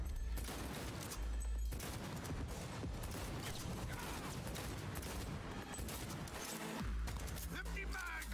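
Video game gunfire rattles in dense, rapid bursts almost without pause, and players talk over the shooting.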